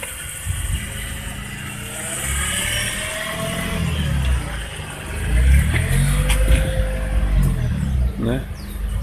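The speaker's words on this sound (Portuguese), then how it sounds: "Agora ele vai tirar o carro." A car pulls out of a parallel parking space during a driving lesson, its engine running steadily and revving up midway, with people talking over it throughout.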